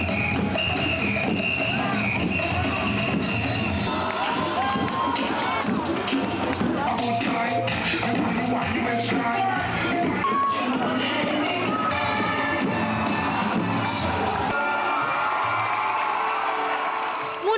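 A large crowd of thousands of fans at the Marikina Sports Complex cheers, whoops and claps steadily throughout during a celebrity sports event, a dense, loud roar that drops away near the end.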